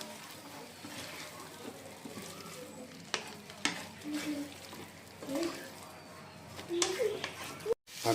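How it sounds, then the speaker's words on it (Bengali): Young jackfruit stirred and fried with spices in a pan: a low, steady sizzle runs under quiet speech, with occasional clacks and scrapes of the spoon against the pan. "এঁচড়টা একবার ভালো করে সময় নিয়ে মশলার সাথে মিক্স করে নেব।"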